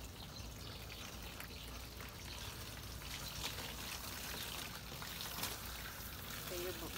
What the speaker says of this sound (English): the water's running forward downhill